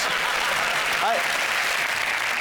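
Studio audience applause on a British comedy panel show, a dense steady wash of clapping filling the whole moment, with a brief voice rising over it midway.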